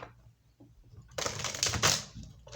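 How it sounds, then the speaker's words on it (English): Tarot cards being shuffled by hand, a quiet lead-in followed by one brisk, close riffling burst in the middle, then a short softer rustle at the end. "We're going to do 2 more shuffles."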